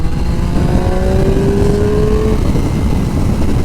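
A Triumph Street Triple RS motorcycle engine accelerating on the road, its pitch climbing steadily as the throttle is held open, loud and close over continuous wind and road rumble.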